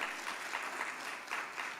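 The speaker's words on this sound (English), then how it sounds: "Let's give them a lusty round of applause." Audience applause greets a panel stepping forward at a diaspora homecoming forum, a steady wash of clapping with slight swells, fairly distant and filling the hall without voices over it.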